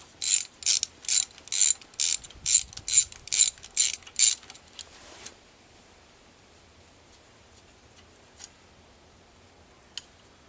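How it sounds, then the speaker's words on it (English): A hand ratchet backs a bolt out of a minibike with about ten quick, crisp clicking bursts in a steady rhythm, close and clear. Near-silence follows with a couple of faint ticks. "let's take this bolt out"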